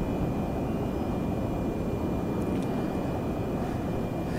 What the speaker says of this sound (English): the unexpected loud engine noise from one side was a bit of a moment